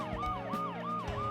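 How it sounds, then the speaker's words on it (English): An ambulance siren from the video game Dead Synchronicity wails loudly in a steady, repeating rise-and-fall pattern, about four cycles with no voices over it. "the ambulance's deafening siren"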